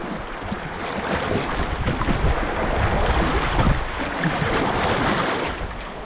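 Canoe driven hard through a remote Arctic river's rapids, with loud, continuous rushing water and wind buffeting the microphone throughout, no clear separate paddle strokes standing out.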